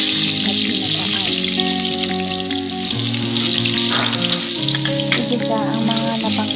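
Ginger, garlic, tomato, onion and green chili sauté in a pan for creamy, spicy Bicol Express, a steady broad sizzle running throughout over loud background music.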